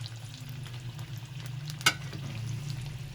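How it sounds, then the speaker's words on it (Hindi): Steamed chicken momos fry in hot oil over high heat, giving a quiet, steady sizzle with one sharp pop partway through. The sound is faint and close, with no one speaking. "जो हमने मोमोज स्टीम किए थे उनको अब हम फ्राई करेंगे, जिसको हम थोड़ा तेज़ आंच पे थोड़ी सी देर के लिए ही फ्राई करेंगे"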